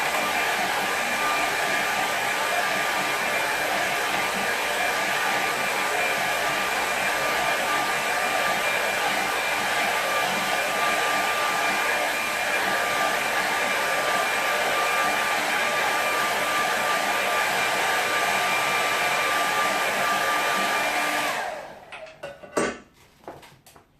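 Hair dryer blowing steadily at close range to dry a watercolour painting, a loud continuous whir with a steady whine that runs nearly the whole time, then cuts off abruptly, leaving a few small clicks and knocks.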